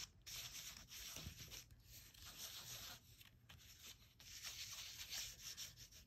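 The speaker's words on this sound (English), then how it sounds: "So now I'm just going to rub over this." A hand rubs steadily over die-cut paper, a continuous soft scraping hiss with a few brief pauses, close and quiet, no voices.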